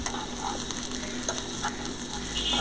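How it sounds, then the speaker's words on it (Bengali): Onions with chopped green chillies frying in a pan for a chicken curry make a loud, continuous close sizzle, with a few clicks of stirring and no voices. "পেঁয়াজ একটু ভাজা ভাজা হলে ওতে কিছু কাঁচা লঙ্কা কুচি দেব এবং ওটা পেঁয়াজের সঙ্গে একটু ভেজে নেব"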